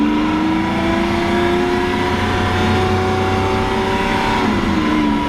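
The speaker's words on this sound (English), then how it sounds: "So we're in the Lamborghini Aventador Roadster." A Lamborghini Aventador Roadster Pirelli edition supercar hums with a loud, steady engine drone heard from inside the car, its pitch holding level and then dipping slightly toward the end.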